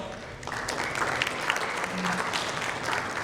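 Audience applause for the moderator at the India CX Summit & Awards 2022 panel, a steady moderate clapping from a crowd lasting a few seconds.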